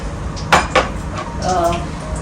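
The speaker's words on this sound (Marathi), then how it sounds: "आता गरम तुपामध्ये आपण थोडे बदाम घालणार आहोत" Almonds go into hot ghee in a metal kadai, giving two sharp metallic clinks close by, followed by softer scraping and stirring with a faint sizzle.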